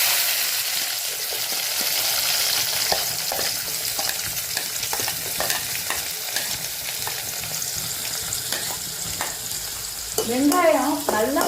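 Onions fry and sizzle loudly in oil in a pan for a Tamil brinjal chutney, with a steady close crackle, scattered stirring scrapes, and a brief voice near the end.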